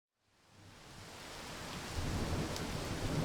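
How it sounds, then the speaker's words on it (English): Rain falls in the video game Corpse Factory, a steady hiss that fades in and swells into a dense, continuous downpour with a low rumble beneath. "rain begins to spill from the clouds"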